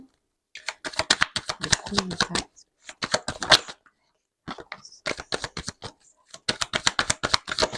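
Tarot cards shuffled by hand in three quick riffling bursts, close and crisp, separated by short pauses.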